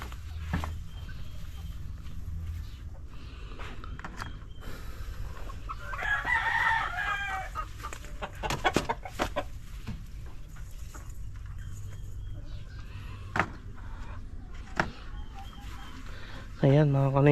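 Chickens cluck and a rooster crows at a laying spot where a hen is laying eggs, moderately near. People talk over the birds throughout.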